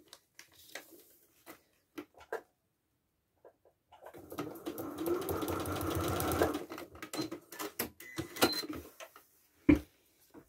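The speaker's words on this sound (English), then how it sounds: "So take it to the machine." A sewing machine stitches fabric for foundation paper piecing in a steady burst of several seconds, set between quieter moments of handling and small taps and clicks.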